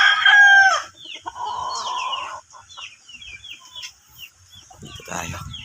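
Backyard gamefowl stags, including a pumpkin hatch with a strip comb, crow and cluck close by, one rooster's loud crow opening before softer clucks and calls from the flock continue alone.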